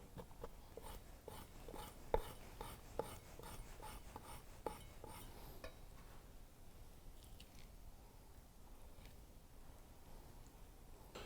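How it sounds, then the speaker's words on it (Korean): Quiet, rhythmic slicing taps of a sharp German stainless steel knife cutting through squid on a board, a rapid series of cuts followed by softer, scattered cutting sounds. "이건 진짜 절삭력이 좋으니까 부드럽게 잘 썰려."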